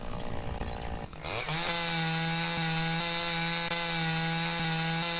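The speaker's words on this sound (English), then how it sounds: "we'll be careful with the chainsaw" A chainsaw in the Lumberjack Dynasty game revs up after a brief rough start, then holds a steady, loud, buzzing drone while cutting wood.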